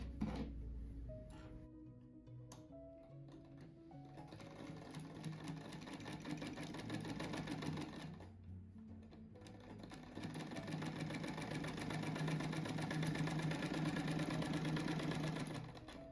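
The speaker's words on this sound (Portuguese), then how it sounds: "Eu vou passar de novo a costura que tinha escapado o fio ali, eu não vi." A sewing machine stitches a rug with a soft, steady mechanical whir that carries on almost without a break, briefly pausing twice before running on at a slightly stronger, even pace.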